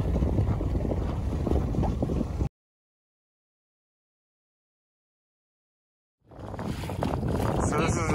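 Strong wind roars and buffets the microphone aboard a small boat at sea off Boca Grande Key in the Dry Tortugas. The blustery noise runs in two loud stretches split by a stretch of complete silence.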